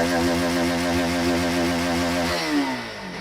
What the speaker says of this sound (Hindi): ये बाइक का साउंड है